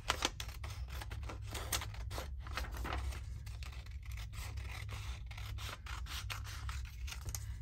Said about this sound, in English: So let's just cut this out.